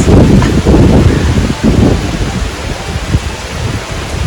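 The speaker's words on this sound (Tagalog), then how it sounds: "Naabot na ng bagyo." Heavy rain pours down with deep rumbling thunder and strong gusts of wind buffeting the microphone during a typhoon, loud and close throughout.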